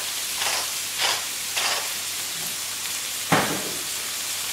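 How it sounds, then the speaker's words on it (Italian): Zucchini and onions sauté in hot oil with a steady close sizzle, broken by a few short stirring scrapes and tosses, with no voices. "Ora che l'olio è caldo, faccio saltare le zucchine con le cipolle."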